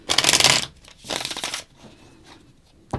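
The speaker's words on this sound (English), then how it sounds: "Gonna shuffle about 3 times and then we'll deal." Tarot cards are shuffled by hand in two quick riffling bursts, close and crisp, followed by softer handling noises and a brief snap at the end.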